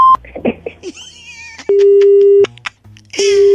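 Telephone line tone after a call is hung up in a prank call, steady electronic tone in repeated long beeps, loud and close, following brief talk and squeaky noises.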